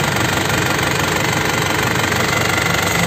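An original 2005 LS turbo engine runs at a steady idle, a loud, close, continuous knocking clatter that holds unchanged throughout with no talking.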